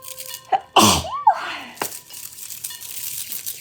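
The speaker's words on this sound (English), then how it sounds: "I'm gonna sneeze." One loud, close sneeze burst from an adult, followed by a brief sniff and some rustling, then quiet room noise.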